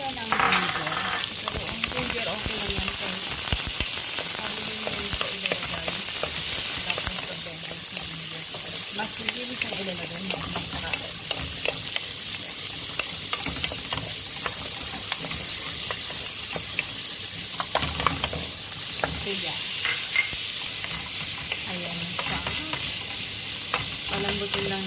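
Onions and ginger frying in a pan for chicken biryani, a steady loud sizzle with repeated scraping stir strokes throughout, and a voice talking faintly at times beneath the cooking.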